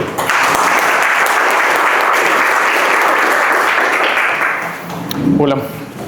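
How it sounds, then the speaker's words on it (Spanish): Audience applause for a physics lecturer at a university cosmology class, dense and loud sustained clapping from a hall that fades near the end as a brief voice or sound rises. "Un aplauso para él."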